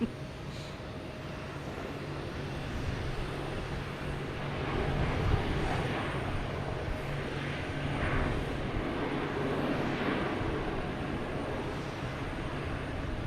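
A JetBlue airliner's engines roar at Boston Logan Airport, a broad, steady rumble that swells and fades at a moderate distance, with no speech over it.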